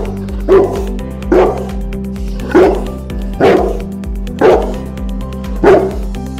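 A Boerboel or Bullmastiff guard dog barks six deep, loud barks at an even pace, close by over a heavy low rhythmic background beat.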